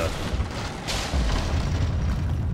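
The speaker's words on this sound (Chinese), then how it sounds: "希腊火，把它炸掉就好了。" A Greek fire explosion goes off in the video game Rise of the Tomb Raider, a sudden heavy boom followed by a rumbling blast over muffled background noise.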